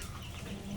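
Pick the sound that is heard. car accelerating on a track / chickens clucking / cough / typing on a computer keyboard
chickens clucking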